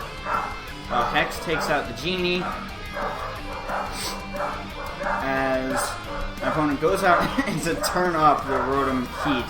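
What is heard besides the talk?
dogs barking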